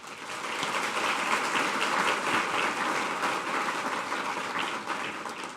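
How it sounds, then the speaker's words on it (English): An audience at a Manatee Chamber of Commerce healthcare awards event applauds a sponsor, the dense clapping steady and sustained for several seconds before it tapers slightly at the end. "please, a round of applause for Regions Bank"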